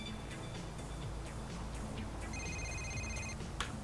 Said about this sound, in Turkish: Nasıl açacağım ben bu telefonu?